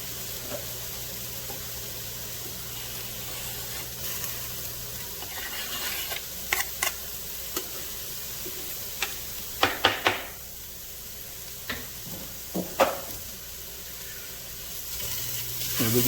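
Garlic sizzling in a pan for shrimp etouffee, a steady soft frying hiss with occasional stirring knocks and scrapes of a utensil, close and moderate in level, with no talk.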